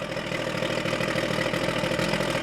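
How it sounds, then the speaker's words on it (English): An outboard boat motor idles steadily and smoothly, a close, even mid-pitched engine chug with its exhaust normally underwater, running alone without talk. "it idles really nicely"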